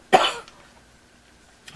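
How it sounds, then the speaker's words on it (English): A single close, sharp cough from a person with a cold bursts out and fades fast, followed by near silence and a faint rustle at the end. "Sorry about the cough."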